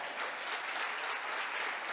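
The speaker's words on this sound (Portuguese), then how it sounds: "Dê um aplauso ao Senhor." Church congregation applauding together, a steady wash of clapping that fills the whole two seconds at moderate distance, with no voices over it.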